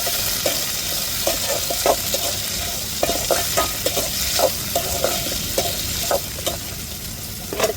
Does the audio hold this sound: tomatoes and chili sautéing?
yes